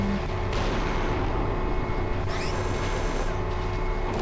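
Weapon fire from a mech in MechWarrior 4 Mercenaries, heavy booming shots layered over a dense, continuous rumble of combat noise, loud and close, with a brief high whine near the middle.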